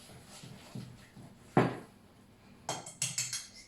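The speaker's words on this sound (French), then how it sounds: "Donc on mélange bien" A spoon stirs tuna cake batter in a bowl, making scattered scrapes and clinks against the bowl, with one louder knock in the middle and a quick run of taps near the end.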